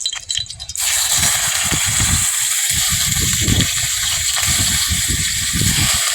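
Potatoes drop into hot oil in a hot wok and set off a sudden loud, steady sizzling hiss that continues under light rattling and clinking.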